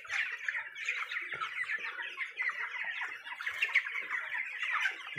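A flock of chickens on a small hillside village farm of about a thousand birds squawks and clucks continuously, a dense overlapping chorus at moderate volume with no speech.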